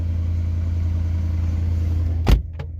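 Steady low idle of a Mercedes AMG car engine just after starting up, close and continuous, with a sharp clunk near the end followed by a fainter knock.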